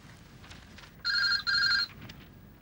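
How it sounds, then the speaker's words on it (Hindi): A telephone bell rings in a quiet indoor scene from a classic Hindi TV drama, two close, loud electronic trills back to back over faint room hum. "भैया, शायद आपका फोन।"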